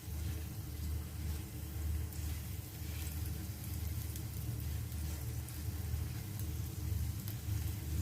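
Linko, a Hong Kong rice-cake snack, sizzles steadily in hot oil, a continuous crackling hiss over a low background rumble, quiet and unbroken.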